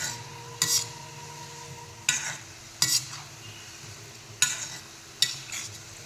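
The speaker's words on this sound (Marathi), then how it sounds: "आपण जर तळत गेलं ना सगळ्या बाजूने एकसारखा कलर येण्यास मदत होतो तर आता जवळजवळ तळून झालेले आहेत" Wheat-flour gulab jamun frying in hot oil, stirred with a utensil: a steady low sizzle with five or six sharp scraping clinks spaced a second or so apart, close and moderately loud, no voices.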